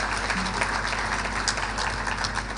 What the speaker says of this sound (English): A big round of applause for our keynote speaker.